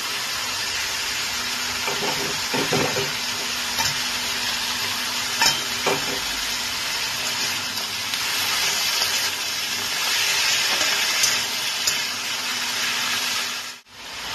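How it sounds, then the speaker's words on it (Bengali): Snake gourd fries with salt, turmeric and green chilli, a continuous loud sizzle with a few spoon scrapes and knocks as it is stirred, briefly dipping near the end; no speech. "নুন, হলুদ আর কাঁচা লঙ্কাটা দেওয়ার পর এবার কিছুক্ষণ ভেজে নিয়ে"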